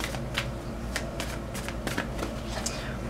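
Angel cards being shuffled for a reading, with a steady soft riffling and several sharper flicks and slaps of cards over a low background hum, close and moderately loud.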